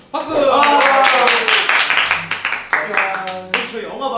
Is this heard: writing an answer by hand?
no